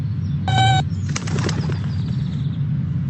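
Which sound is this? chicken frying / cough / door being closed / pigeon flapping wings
pigeon flapping wings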